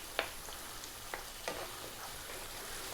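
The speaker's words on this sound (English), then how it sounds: "we're now going to drop in that 1 can of tomatoes, which I'm just going to break there, whole plum as you can see" Whole canned plum tomatoes for a lamb and eggplant stew land in a pan over a steady sizzle, followed by a few scattered soft squelches and taps as they are roughly broken up, with no talk.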